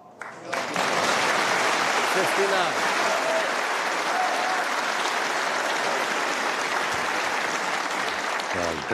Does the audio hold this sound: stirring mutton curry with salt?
no